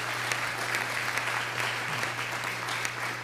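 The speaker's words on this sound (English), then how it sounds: "Let's give Marvin a round of applause, because" Applause from the audience at a city council meeting, a continuous close wash of many hands clapping with occasional sharper individual claps, steady throughout with no talk.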